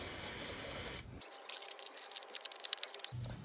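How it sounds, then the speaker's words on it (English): Contact cleaner sprayed onto a motorcycle relay on a Royal Enfield Himalayan 450: a steady close hiss for about a second, then a lighter patchy spray with small rattling bursts, ending in another short hiss. "And now I'm going to go to work on this with some contact cleaner."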